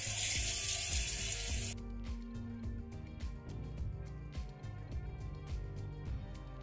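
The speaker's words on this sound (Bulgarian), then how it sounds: "пускам вода и просто ще го оставя под течащата вода за някакво време" Tap water runs over boiled chickpeas in a strainer, a steady close splashing wash with a hissy burst at the start, then a softer continuous trickle with small clattering patters.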